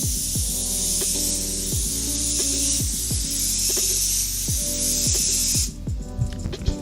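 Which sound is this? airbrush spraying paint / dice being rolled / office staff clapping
airbrush spraying paint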